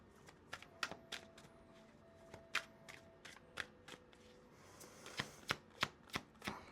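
A deck of tarot cards is riffle-shuffled, a dozen or so crisp flicking bursts at an uneven pace, close and quiet against a soft room background.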